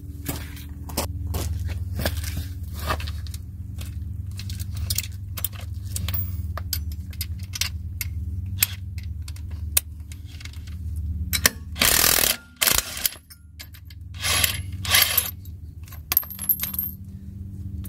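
A socket ratchet clicks and metal parts jingle close by as a lug nut comes off a wheel of a rusted 1977 Pontiac Trans Am. The ratcheting runs under a steady low hum, with louder clanks and a rattle near the end.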